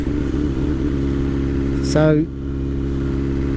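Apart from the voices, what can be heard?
motorcycle engine with race exhaust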